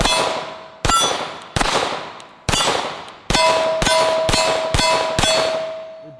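Rounds from a Canik TP9 SFX pistol ring out against a steel plate, eight sharp cracks with metallic clangs, spaced irregularly at first and then coming in a quicker run, loud and close with no talking.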